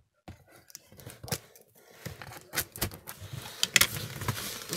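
Crackling, ripping bursts of tape being peeled off a package, coming in irregular tugs with short pauses, close by and moderately loud.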